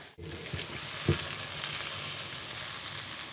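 Ground onion paste hitting hot oil in a pan for chicken karahi, a sharp thud of it landing and then a steady, rising sizzle, close and without talk.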